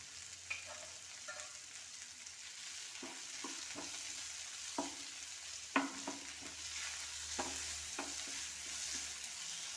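A curry masala of ground paste, salt and tomatoes cooking in a pan, stirred and tapped with a spoon in irregular scrapes over a continuous soft sizzle, close by with no speech.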